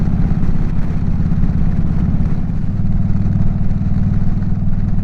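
A Harley-Davidson motorcycle cruising on the road, its engine a steady, loud low rumble with a continuous throbbing pulse and wind noise, close up, with no talking.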